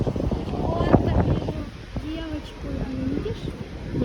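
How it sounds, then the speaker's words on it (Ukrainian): Strong seaside wind on a beach at Alicante, Spain buffets the microphone in a constant low roar while people talk over it. "Вітер дуже сильний."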